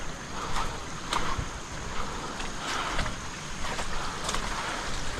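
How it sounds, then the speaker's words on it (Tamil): Rushing water heard from a car on an off-road track, a steady wash of sloshing and surging, moderately loud and close, with soft repeated swells and no talking. "தண்ணி சவுண்டு தானடா எனக்கு கேட்குது"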